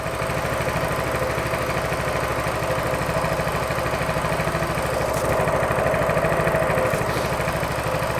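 A Coleman BT200X mini bike's four-cycle engine with a newly replaced carburetor idles steadily and close by, a fast even putter that holds for the whole stretch with no talk.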